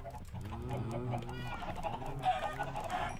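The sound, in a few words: chickens clucking in Minecraft video game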